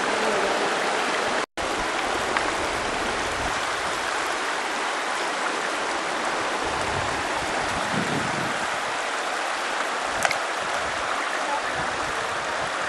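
A river in Nova Scotia rushes steadily with broad, constant flowing water noise that stays near and fairly loud throughout, broken only by a momentary dropout early on and a brief knock later.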